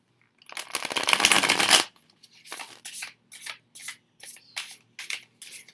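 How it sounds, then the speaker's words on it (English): Tarot cards shuffled by hand: one long riffling burst followed by a series of short, crisp card-shuffling bursts in a steady rhythm, close and alone with no talking. "So I am going to give my cards a shuffle here."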